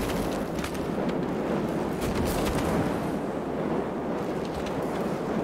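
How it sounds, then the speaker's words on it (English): A steady roaring, crackling rush of fire in the sci-fi game Prey, continuous and fairly loud for several seconds with no voices over it. "There's the fire!"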